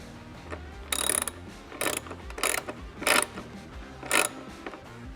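A hand ratchet tightens 11mm screws on a fairing spoiler bracket of a 2023.5-or-later Harley-Davidson Road Glide, giving five short bursts of rapid clicking separated by brief pauses, close and clear.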